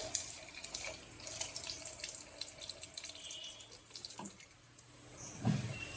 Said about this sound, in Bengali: মুখটা ধুয়ে নাও।